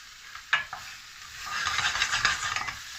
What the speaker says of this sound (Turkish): Pirincimiz de bu arada biraz kavrulmuş oluyor.